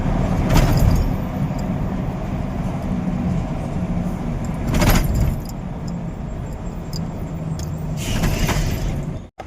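A loaded truck drives along the road toward Mogli Ghat, its engine a steady, loud rumble heard from inside the cab, with a few brief rattles and clicks on top.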